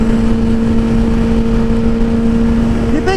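A Prius van rolls close by, its motor a loud, steady hum with a constant drone that holds through the whole stretch.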